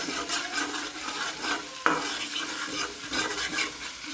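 Turmeric, chili and coriander powder stir-fried with small fish in a pan give a steady sizzle, with scraping stirring strokes and one sharp utensil knock partway through.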